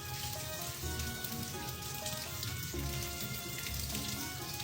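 Food sizzles steadily in hot oil, a continuous crackling hiss at low level with no one talking over it.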